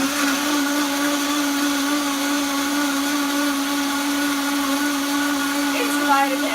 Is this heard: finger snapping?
no